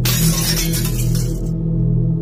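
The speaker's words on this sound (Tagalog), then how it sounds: "may narinig akong nabasag" Glass lab beakers shatter in a school laboratory: one sharp, loud crash of breaking glass that fades into a low hum.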